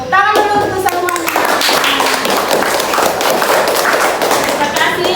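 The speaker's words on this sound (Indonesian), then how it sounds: "Tepuk tangan dulu untuk semuanya." Students applaud in a classroom, a dense burst of clapping from many hands that carries on loudly and evenly, with children's voices mixed in.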